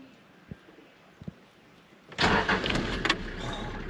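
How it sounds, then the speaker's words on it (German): A car's engine is started and catches suddenly after a couple of soft clicks, then runs loudly and roughly close by, during an overland trip in Mozambique. "wir versuchen jetzt einmal unser Auto wieder zu starten"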